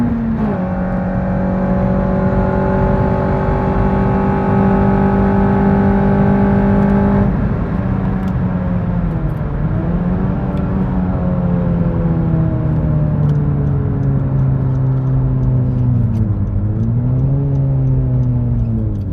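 A 2015 ninth-generation Honda Civic with a K24 engine, muffler delete, ram intake and coilovers drives on the road, its loud raspy exhaust holding a steady drone before rising and falling through gear changes, close and continuous.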